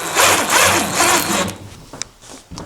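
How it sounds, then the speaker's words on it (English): Heavy duty screws being driven into a wall, a close grinding, rasping whir lasting about a second and a half, then quieter scraping with a sharp click. "Then I'm going to go in with 3 heavy duty screws on that line."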